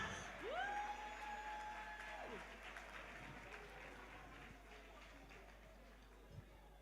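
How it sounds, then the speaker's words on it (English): Steady applause from a crowd at an award ceremony fills the whole stretch, a soft continuous patter with a brief rising tone near the start. "A warm round of applause for her."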